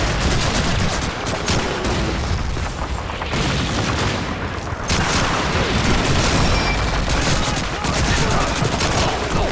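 Dense, continuous gunfire and booming explosions from the World War II shooter Call of Duty 2 on PC, loud and relentless, with rapid bursts layered over heavy blasts throughout.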